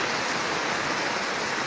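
Floodwater rushing across a road near the Bhutan gate during heavy rain, a dense, even hiss of water and downpour that holds steady throughout, with no voices.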